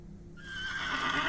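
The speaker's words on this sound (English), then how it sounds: "Hey, it's a horse." A horse whinnies in The Excavation of Hob's Barrow video game, a single rising neigh that swells in after a quiet start and holds loud and close to the end.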